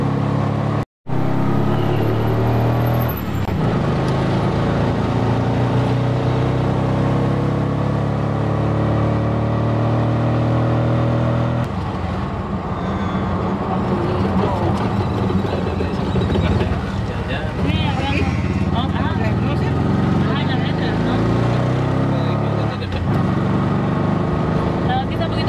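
A car cruises along a road in Mexico, with a steady engine and road rumble and buffeting wind on the microphone throughout. Voices talk over it for much of the time.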